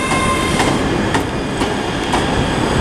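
A ScotRail Class 385 electric train pulls onto platform 7 at Glasgow Queen Street station with a loud, steady rolling rumble and faint periodic wheel clicks.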